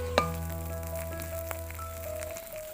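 Curry leaves hit hot oil in a pan with a sharp pop, then settle into a soft, steady sizzle and crackle, close and fairly quiet.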